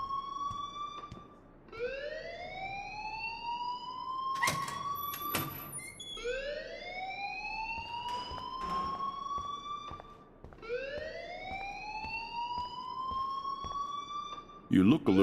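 An alarm rings in the video game Life Is Strange, a looping siren-like wail that sweeps upward in repeated cycles about every four seconds, loud and steady, with brief clattering bumps between sweeps.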